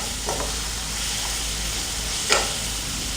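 Pudina rice ingredients fry in a pan with a steady, close sizzle, broken by a few soft scrapes and stirring knocks.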